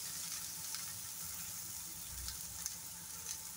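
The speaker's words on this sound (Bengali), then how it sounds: "পেঁয়াজটাকে ফ্রাই করে নেব।" Finely chopped onion frying in a pan makes a continuous, even sizzle with faint hissing crackle, quiet and close, and no one speaking.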